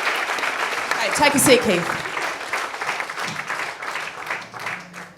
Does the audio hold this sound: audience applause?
yes